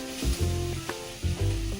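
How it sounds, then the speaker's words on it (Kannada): Grated carrot fries in a pan for carrot halwa, giving a steady, close sizzle with intermittent stirring scrapes running throughout. "ತುರಿದುಕೊಂಡ ಕ್ಯಾರೆಟ್ ಅದೇ ಪಾತ್ರೆಯಲ್ಲಿ ಹಾಕ್ಬಿಟ್ಟು ಹಸಿ ವಾಸನೆ ಹೋಗೋವರೆಗೂ ಅದನ್ನ ಫ್ರೈ ಮಾಡ್ಕೊಳ್ಳಬೇಕು."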